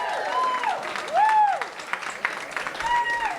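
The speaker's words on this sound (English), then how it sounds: "first of all, a big round of applause." A live finals audience for a food contest at Gloria Ferrer Caves & Vineyards breaks into applause for the contestants, a moderate wash of clapping under cheerful shouting voices.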